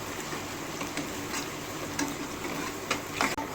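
Onions frying in spiced oil for kaleji masala, a steady close sizzle with occasional scraping ticks of stirring, no voices.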